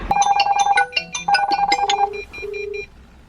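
Mobile phone ringtone for an incoming call plays through a Bluetooth FM transmitter in a car, a loud repeating electronic melody of bright tones that carries on steadily for several seconds before stopping, with no talking.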